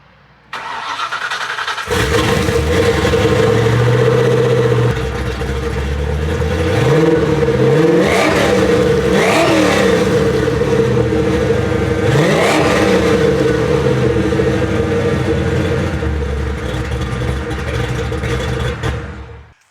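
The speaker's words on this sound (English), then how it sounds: "Now, if you ask me, that's how a Foxbody should sound." A Foxbody Mustang V8 exhaust fires up and idles with a deep rumble, then gets revved hard several times, loud and close, with no talking.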